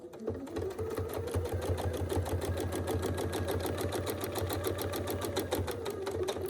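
A sewing machine free-motion quilting a triangle-pattern quilt, stitching in the ditch, runs in a steady, fast, even rhythm of stitches from start to finish, loud and close with no talking.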